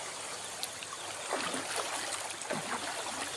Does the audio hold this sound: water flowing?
yes